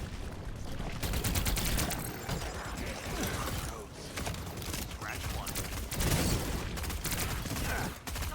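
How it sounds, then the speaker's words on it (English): A heat-seeking pistol fires repeatedly in a video game, rapid bursts of sharp shots in quick succession with a pause midway, close and loud, with voices talking over the gunfire. "Heat seeking pistol."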